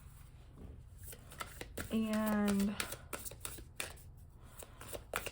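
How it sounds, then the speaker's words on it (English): Sacred Self-Care Oracle cards shuffled by hand, crisp close riffles and taps in uneven bursts, with a person speaking briefly over them partway through. "with these Sacred Self-Care Oracle here that I'm shuffling"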